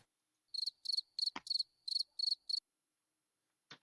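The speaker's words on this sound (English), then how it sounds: "Yeah, you can give me the crickets." Cricket sound effect: clean, high insect chirps in seven quick pulsed trills, close and alone against silence, followed by a brief low thump and a short final burst.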